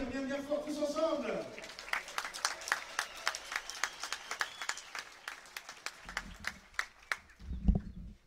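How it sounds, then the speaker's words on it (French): A crowd at a pétanque triplette final in Draguignan claps in time, a steady rhythmic beat of applause. A voice is heard calling out at the start. "Allez, on va s'applaudir bien bien fort tous ensemble."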